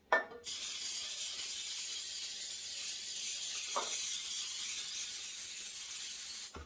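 Faint, steady hiss of aerosol cooking oil sprayed onto a stainless steel pan, a continuous airy spray with a couple of soft knocks.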